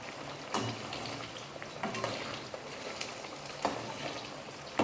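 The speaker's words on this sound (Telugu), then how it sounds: "ఇవి కూడా మనం ముందు వాటిలాగా ఫ్రై చేసుకుందాం." Banana slices fry in hot oil for chips, a steady close crackling sizzle broken by a few louder bursts as the slices are stirred.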